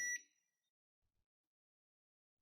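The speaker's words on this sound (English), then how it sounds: "Just does the Tamagotchi dying beep at you" Tamagotchi Nano virtual pet in a Pui Pui Molcar edition sounds its death alert: a brief, shrill electronic beep burst at the very start, then near silence with a couple of faint soft thumps.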